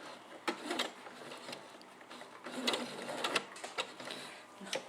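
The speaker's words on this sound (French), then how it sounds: "je pique je laisse l'aiguille piquer je remonte le pied presseur" A sewing machine stitching fabric for a simple summer dress, running in short quick bursts with rapid mechanical whirring, close and fairly quiet, with pauses between runs.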